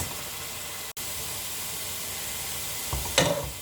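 Prawn biryani masala sizzles and fries steadily in a pan with a constant hiss, broken by a brief gap and a few louder stirring scrapes near the end.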